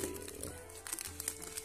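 A plastic package is unboxed, its wrap crinkling and rustling softly in a steady stream of small crackles, fairly quiet and close, with no talk over it.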